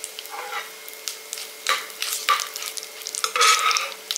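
Bay leaves, star anise, cinnamon and cardamom sizzle and crackle in hot oil with a steady fizz, broken by sharper spattering bursts and faint stirring scrapes, close up.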